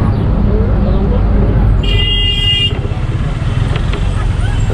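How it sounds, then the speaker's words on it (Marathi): A state transport bus pulls into the Mandangad bus stand, its loud diesel engine rumbling steadily up close with a brief horn toot partway through and voices faintly in the background. "स्टँडला चालली गाडी"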